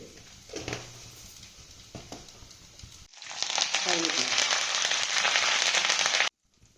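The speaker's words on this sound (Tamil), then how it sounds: "எண்ணெய் நல்லா காஞ்சதும் கொஞ்சமாக வெந்தயம், கொஞ்சம் போல் கடுகு" Fenugreek and mustard seeds hit hot oil for a sour yam tamarind curry, setting off a sudden loud, dense crackling sizzle after a quieter stretch of faint kitchen noise, then cutting off abruptly.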